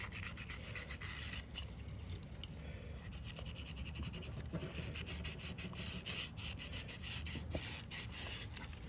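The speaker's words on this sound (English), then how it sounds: "I found this brush from my gun cleaning kit, and back up a little bit. I'm just gonna scrape all the sidewalls here" A stiff gun cleaning brush scraping the sidewalls of a Simpson 3400 PSI pressure washer carburetor, a continuous close rasping and rubbing with uneven strokes.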